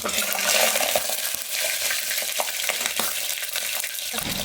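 Cardamom pods and mace sizzle in hot oil in a pan while being fried until brown for mutton masala curry, a loud continuous crackling fry with occasional light clicks of a spoon stirring.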